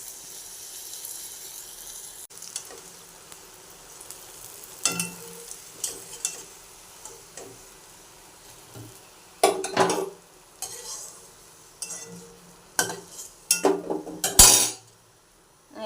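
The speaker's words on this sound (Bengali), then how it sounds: "তেল গরম হয়ে গেছে, এই বড়া দিয়ে দিচ্ছি।" Gourd peel fritters (bora) fried in hot oil, with a light background sizzle punctuated by clusters of sharp clinks and scrapes of a utensil against the pan, growing busier and louder toward the end, no speech.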